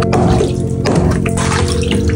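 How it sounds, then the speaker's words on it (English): An ice bath pump circulates near-freezing water (about 31.8°F) in a cold plunge tub, giving a steady, close, continuous watery churn and hum with light dripping and no talk. "The pump is running, moving the water around"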